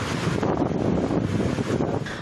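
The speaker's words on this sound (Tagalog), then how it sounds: "Grabe yung hangin." Strong, gusting storm wind battering a microphone outdoors in Bahay Toro, Quezon City, during thunderstorms and monsoon rain, a loud rumbling roar with buffeting surges and no talking.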